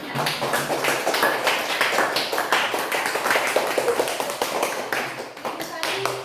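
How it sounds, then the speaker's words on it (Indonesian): A classroom group claps for a student named Yara, a close, uneven patter of hand claps running throughout with some voices mixed in underneath. "Tepuk tangan untuk Yara ya."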